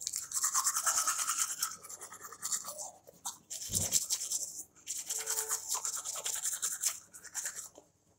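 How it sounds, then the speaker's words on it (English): Close, wet scrubbing of a toothbrush against teeth comes in rapid back-and-forth strokes, with a short pause partway through. "brushing my teeth"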